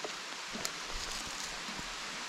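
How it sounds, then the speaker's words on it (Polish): Heavy rain pouring during a cycling trip along Scotland's North Coast 500, a steady faint hiss of rainfall with scattered drop ticks and no talking. "O, leje, wszędzie leje."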